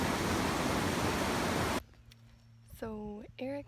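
The Thompson River on the Foothills Trail in March rushes as a loud, steady broadband wash. It cuts off abruptly, and a voice speaks briefly over quiet background hiss.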